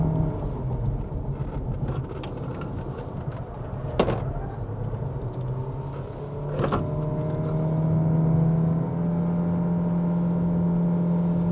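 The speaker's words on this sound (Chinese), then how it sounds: "我踩完油的时候就是转速会升上来" A Proton eMas 7 PHEV Premium climbing the Genting road, its engine drone rising steadily under heavy throttle to a sustained high hum, heard from inside the cabin with a couple of brief clicks along the way.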